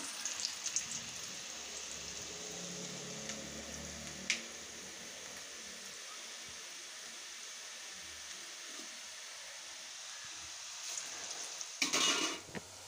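Coconut milk murukku dough fries in hot oil with a steady, dense sizzle that holds even throughout, broken by a few brief louder clatters near the end, no talk.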